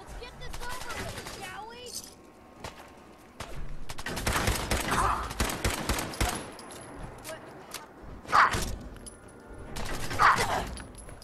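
Bursts of rapid gunfire in the game Fallout 4 from a player in power armor, clattering volleys and single shots trading back and forth amid combat noise, with someone talking over parts of it.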